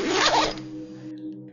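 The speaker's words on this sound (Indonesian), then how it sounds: "Resleting pintu tenda dibuka" A tent door zipper is pulled open in one quick, rasping stroke lasting about half a second, close and crisp, followed by a quiet background hum.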